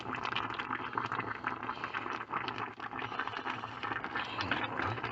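Pineapple tea with cinnamon simmering in a pot, a continuous soft bubbling and gentle rattling hiss, fairly quiet and steady throughout with no voices.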